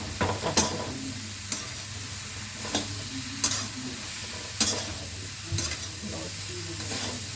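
Tempering sizzles in a pan for chappan kaddu sabzi, a summer squash curry seasoned with black pepper masala, with steady frying hiss and repeated sharp clinks and scrapes of a stirring spoon at irregular intervals, fairly close.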